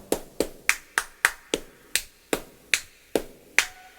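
Flamenco-style hand clapping and finger snapping, a dozen sharp, crisp hits in a brisk, slightly uneven rhythm, close and clear with nothing else behind them.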